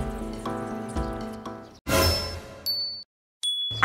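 Honda Connect car app notification chime: a series of bright, clear ding tones, some sustained and ringing, separated by brief pauses, loud and alone without speech.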